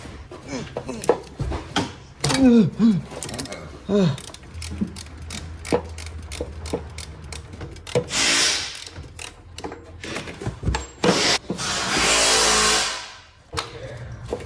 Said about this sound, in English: you need a 32mm socket to get that tensioner off